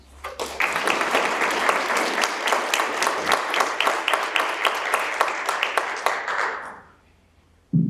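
An audience at a drug awareness and prevention seminar at SUNY Old Westbury claps to welcome a speaker to the stage: dense, steady applause that swells quickly, holds for several seconds, then dies away abruptly.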